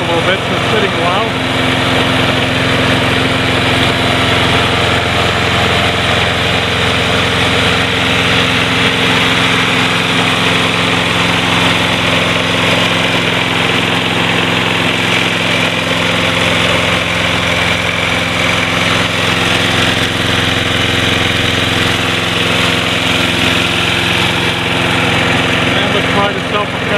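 Snapper Big Six Ninja self-propelled lawn mower engine running steadily, a loud, close, unbroken drone with a constant hum that holds level for the whole stretch.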